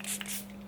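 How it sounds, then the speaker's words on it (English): Nude by Nature Natural Setting Spray misted onto a face, one short soft hiss of spray lasting well under a second, close and quiet. "I just want to give my face a little spray with the Nude by Nature Natural Setting Spray"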